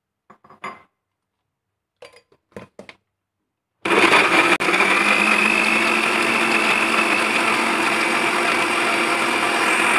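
A blender grinds spice paste with a little water for homemade curry seasoning, starting abruptly after a few quiet clinks and then running as a loud, steady whirring roar to the end.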